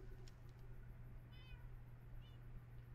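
Faint cat meows, two short calls, rise over a steady low hum and room noise, with no one talking.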